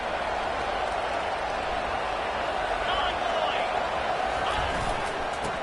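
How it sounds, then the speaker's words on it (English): Stadium crowd at a college football game with the Arkansas Razorbacks playing, a dense, steady roar of thousands of fans holding loud and continuous from start to finish. "Listen to the crowd energy here in the early going."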